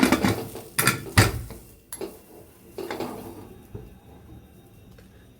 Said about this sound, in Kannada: ಇವಾಗ ಲೆಡ್ನ ಕ್ಲೋಸ್ ಮಾಡ್ತಾ ಇದ್ದೀನಿ